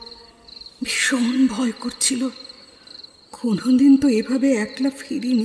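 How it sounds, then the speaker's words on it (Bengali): Crickets chirp continuously at night on a dark, rain-wet country path, giving a steady thin trill in the background while a voice speaks over it. "একটানা ঝিঝির ডাক।"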